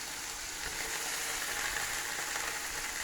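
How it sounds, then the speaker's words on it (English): Minced beef sizzles and crackles hard in a hot pan, a steady dense frying hiss with no talking. "just a case of hard frying it"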